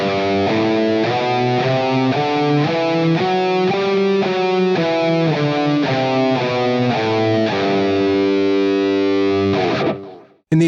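A distorted electric guitar plays a scale note by note in a steady rhythm, loud and close, ending on a long sustained tone before cutting off.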